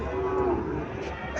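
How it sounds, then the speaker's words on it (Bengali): A Haryana cow gives a single short, close moo over a noisy outdoor livestock-market background. "এখানে একটা গাভি দেখা যাচ্ছে"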